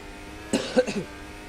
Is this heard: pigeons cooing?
no